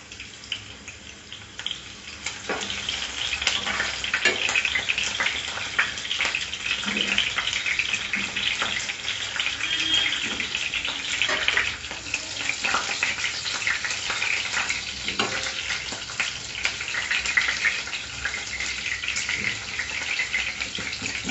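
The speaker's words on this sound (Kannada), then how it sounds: "ಇದು ಬೆಂಡೆಕಾಯಿ ಫ್ರೈ ಆಗಿದೆ, ನಾನು ತೆಗೆದ್ಬಿಡ್ತೀನಿ." Okra (lady's finger) fries in a pan with a continuous, dense hiss and sizzle. Occasional small clatters rise above the steady sputter.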